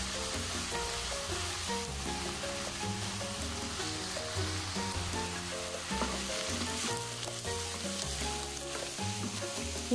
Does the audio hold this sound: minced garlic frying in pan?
yes